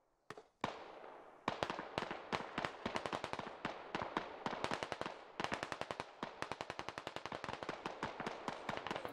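In the shooter game SquadOps, rapid gunfire crackles in dense bursts of sharp, loud reports, from single shots to fast automatic strings, running almost nonstop near the listener.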